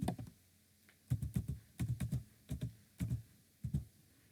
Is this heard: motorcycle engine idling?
no